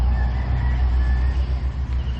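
Chickens and a rooster at a hostel in Moalboal, Cebu, clucking and crowing nearby. Their calls run over a low steady background hum, with no one speaking.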